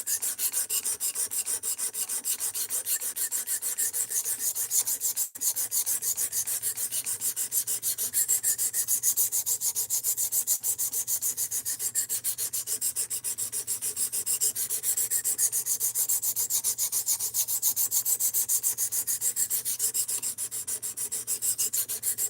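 A D2 steel Ozark Trail axis lock knife has its bevels sharpened, with fast, even rasping strokes against a sharpening surface repeating steadily at close range for a long stretch.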